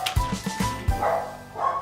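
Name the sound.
dog barking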